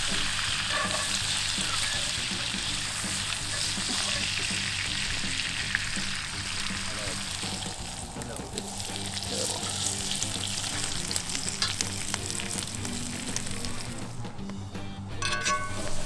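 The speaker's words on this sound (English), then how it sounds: "Everything's starting to sizzle?" Food sizzles loudly and continuously in a hot pan, a dense crackling hiss with occasional stirring scrapes, close up.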